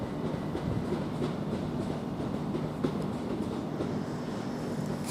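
A train runs through Ramsgate station with a steady, continuous rumble and faint rail clatter, moderately distant, no voices present.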